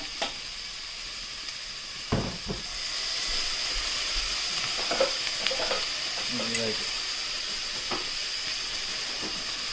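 Vinegar hits a hot pan while cooking birria, and a sudden burst of sizzling settles into a steady hissing fry with a few scattered clinks of utensils.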